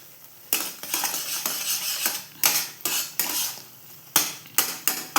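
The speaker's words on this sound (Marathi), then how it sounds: "ढवळून घ्यायची साखर" A spoon stirring sugar in a metal pot while making sheera, a series of close, loud scraping strokes against the pot in uneven bursts with short pauses between, no talking.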